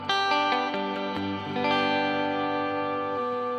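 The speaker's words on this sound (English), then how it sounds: "You can adjust your time if you want like a super long reverb." An electric guitar played through a Fractal FM3 MKII Turbo rings out in sustained notes and chords washed in a very long, lush reverb, with a couple of plucked changes and no voices.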